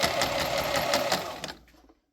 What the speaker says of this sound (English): then I'll go full speed with the reduction gear